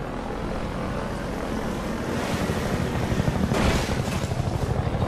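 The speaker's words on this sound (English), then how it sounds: "I like running away from the helicopter" A helicopter roars in the video game Half-Life 2, a loud, continuous rushing drone that grows toward the end into a choppy, rhythmic rotor pulsing, with no speech.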